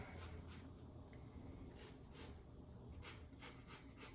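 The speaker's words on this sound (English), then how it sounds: "I'm going to zest those right into the dry ingredients" Mandarin oranges are zested straight into a bowl of dry ingredients for a sugar-free carrot cake, producing quiet, rhythmic rasping strokes against the grater in short bursts.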